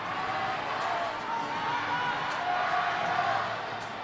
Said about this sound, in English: Hear the chants of the crowd to support the home nation gymnasts.